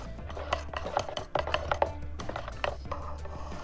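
A product for renovating a workbench stirred in a container, with irregular clinks and knocks from the tool against the side over a steady low hum, close and moderately loud.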